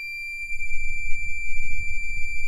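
A key programmer beeps without a break while programming a key for a 2003 Toyota 4Runner. It holds one high, piercing electronic tone throughout, with low handling noise underneath.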